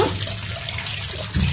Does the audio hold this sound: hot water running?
yes